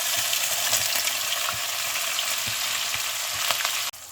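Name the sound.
frying onion, cumin and green chilies in oil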